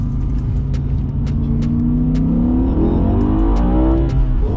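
A BMW E60 M5 accelerating hard from inside the cabin, its loud engine note rising steadily with a shift of the gearbox near the end, no talking over it.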